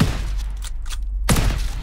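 A shotgun fires at close range in Call of Duty: WWII, a loud heavy blast with a rumbling tail, then a second sharp report near the end.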